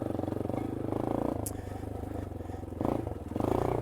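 A Yamaha XT250 dual-sport motorcycle chugs along single track at low revs, its thumping single-cylinder engine pulsing steadily close by, swelling briefly with throttle near the end.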